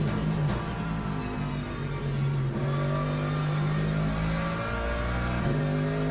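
Engines of LMP prototype race cars in the Le Mans Ultimate sim racing game drone continuously, with tonal whines rising and falling through gear changes and revs, steady and fairly loud without talk.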